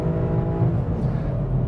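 Ford Mustang GT Track Pack V8 heard from a distance, a steady engine drone with a low rumble, holding a fairly constant pitch for a moment.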